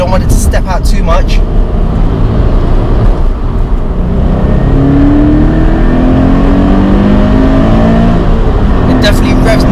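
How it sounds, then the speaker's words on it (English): Toyota GT86 sports car engine droning loudly and continuously on a track, pitch rising and sweeping as it revs through a corner, heard close from inside the cabin. "It definitely revs nicely, about 4000 RPM as well."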